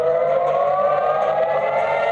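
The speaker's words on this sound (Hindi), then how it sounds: "सायरन बजने लगे" Air raid sirens wail over Israel after a missile attack, a loud, steady civil-defense tone sounding continuously without break.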